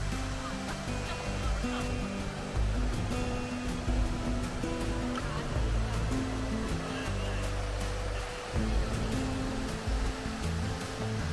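Mallali waterfall in Coorg roars in a steady, dense wash of falling water, loud and close, with a low rumble that holds unbroken throughout.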